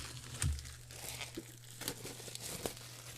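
Plastic and paper packaging crinkling and tearing as an iPad stand is unboxed, soft close rustles with a few sharper crackles, no talking.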